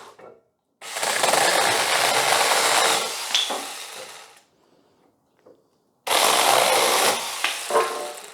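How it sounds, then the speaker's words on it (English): Firewood is cut with a saw outdoors in the cold: two loud, sustained rasping bursts, the first about three seconds long and the second shorter, separated by near silence with faint knocks. "Cutting a bit of firewood for the fire outside because it's so bloody cold."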